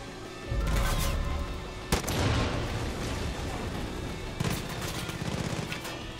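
Heavy gunfire rattles through a Far Cry 5 firefight, a dense sustained volley with two sharp louder blasts standing out near the start and midway, loud and close with no talk over it.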